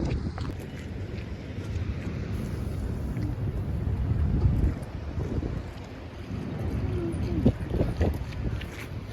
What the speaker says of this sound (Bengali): হেলসিনকিতে বাতাসটা অনেক বেশি কম্পেয়ার টু মিক্কেলি